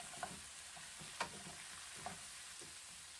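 Apples and Brussels sprouts fry with dried cranberries and shaved almonds in a pan, making a quiet sizzle while a utensil stirs them, with three or four soft scraping knocks.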